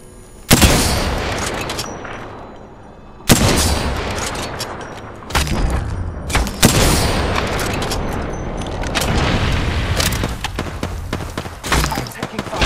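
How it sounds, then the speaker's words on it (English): Gunfire in the Apex Legends battle royale shooter: loud bursts of shots and heavy booms come in several clusters, with sharp onsets near the start and midway, over a constant dense din of combat. "I'm taking fire."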